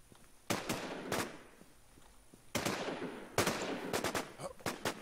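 Several sharp gunshots in a multiplayer shooter game, a couple of isolated cracks followed by a quicker cluster of shots, fairly close, with quiet gaps between.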